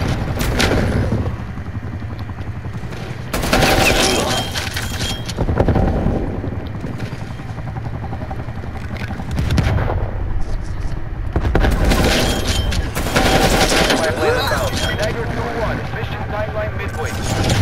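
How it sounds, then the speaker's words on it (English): A sentry turret in a video game firing in loud, sustained bursts, separated by quieter gaps, with talk in the clip alongside the shooting. "Sentry turret."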